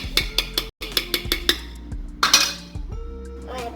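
A metal spoon clinking against a bowl while stirring a sugar mixture for cake, a quick run of bright rhythmic taps, a brief pause, then slower scraping clinks, close and clear with no talk over it.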